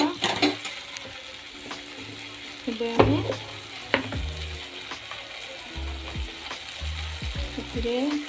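Tomatoes with masala fry and sizzle in a pan for Odia dahibara aloo dum, with a steady hiss broken by repeated stirring scrapes and clatters of a spoon against the pan.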